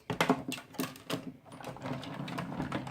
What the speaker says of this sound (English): And then I'm going to put it into my Big Shot machine.